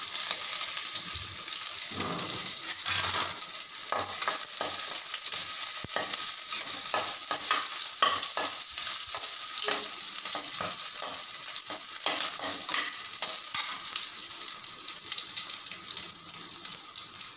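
Chopped shallots with green chili sizzling and stirred in a pan for Chettinad white mutton kurma, a continuous loud frying hiss broken by repeated scraping strokes of the spoon, with no talking.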